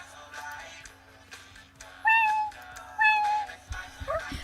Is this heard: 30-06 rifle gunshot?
no